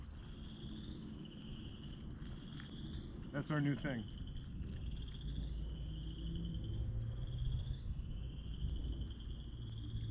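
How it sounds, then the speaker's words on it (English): Frogs trill steadily in a forest preserve, a faint, continuous high chorus that runs through the whole stretch beneath calm outdoor conversation, with a brief clatter partway in. "We picked a spot where you could hear frogs."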